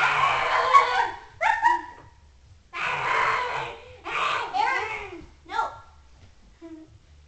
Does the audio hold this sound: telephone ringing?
no